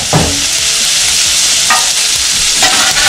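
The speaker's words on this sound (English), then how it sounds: "I'm going to stir up these veggies a little bit more." Vegetables for a Philly cheesesteak sizzle loudly in a hot pan while being stirred, a dense continuous frying hiss broken by a few scraping stirs.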